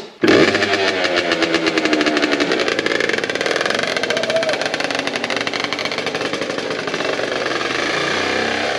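A Yamaha DT 90 two-stroke motorcycle engine restarts after stalling and keeps running at a steady, buzzing idle with a rapid rattling pulse, close and loud throughout.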